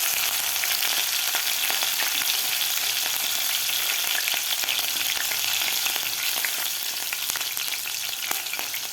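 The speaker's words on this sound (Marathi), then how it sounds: "आता यामध्ये घालायची आपल्याला हिरवी मिरची." Green chilies frying in hot oil with mustard seeds and cumin, a dense continuous sizzle and crackle with scattered pops and occasional stirring, close and loud throughout.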